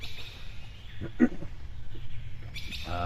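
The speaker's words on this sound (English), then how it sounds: "you can hear kind of the chirping in the background of birds and stuff" Birds chirp and tweet in the background of the video game 35MM, a few scattered calls over a soft ambient bed, with no talking.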